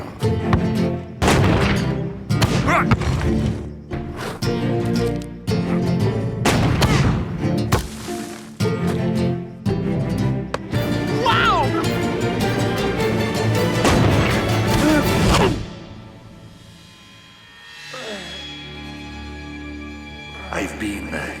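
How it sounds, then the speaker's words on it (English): Heavy booming cannon blasts fire in rapid, repeated bursts in a cartoon, loud and close, with a rumbling, ringing tail before things quiet to a softer background near the end. "Tiger wasn't joking about the cannon."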